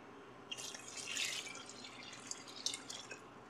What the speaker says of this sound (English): I'm going to add water using the same container I'm going to eat the soup out of.